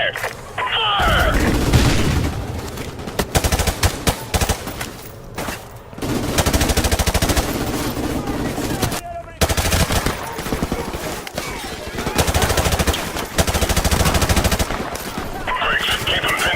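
Heavy automatic gunfire and explosions from Call of Duty Modern Warfare rattle loud and continuous, with rapid bursts, brief lulls and shouted voices over the combat.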